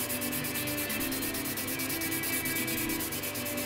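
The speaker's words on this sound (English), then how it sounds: "I'm going to sand 90 degrees to that." Clear plastic scale model windshield glass is sanded by hand with quick, rhythmic back-and-forth rubbing strokes, close and continuous, with no voices.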